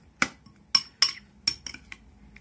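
Metal spoon stirring a small amount of 9% vinegar into a sauce, a few distinct clinks and scrapes against a dish, close and fairly quiet, with no talking.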